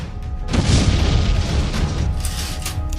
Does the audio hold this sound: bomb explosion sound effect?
yes